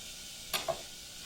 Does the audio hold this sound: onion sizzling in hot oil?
yes